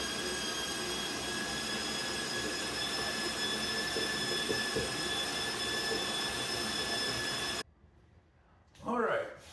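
A steady, loud electric mixer whirs at high speed, whisking sandtorte batter with a constant drone and tonal whine for several seconds, then stops abruptly, followed by a short burst of voice.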